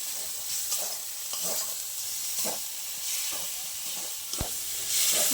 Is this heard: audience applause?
no